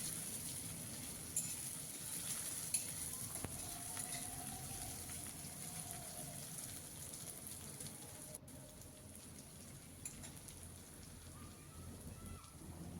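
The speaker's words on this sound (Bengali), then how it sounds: "পেঁয়াজ আমি 2 থেকে 3 মিনিট সময় ধরে আগে ভেজে নেব" Onions frying in a pan, a continuous soft sizzle and crackle like light rain, steady and fairly quiet for the whole stretch, with no one talking.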